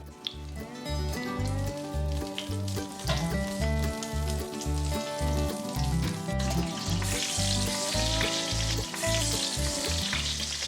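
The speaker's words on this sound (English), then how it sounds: "Make sure your cast iron pan is nice and hot before you put the lard or the tallow and sear it." Short ribs sear in hot lard in a cast iron pan with a loud, steady sizzle and crackle, close by and unbroken, while rhythmic music plays underneath.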